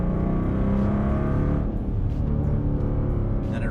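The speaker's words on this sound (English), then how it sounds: "And then I'll floor it so you can see how much faster it reacts." The engine of a 2020 Dodge Durango R/T roars at full throttle as it accelerates. It is heard from inside the cabin as a loud, steady low rumble that eases slightly partway through.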